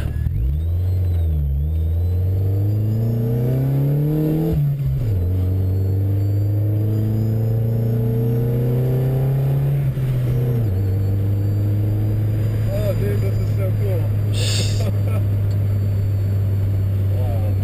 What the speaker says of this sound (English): She's got a little misfire because my spark plug wire is actually broke.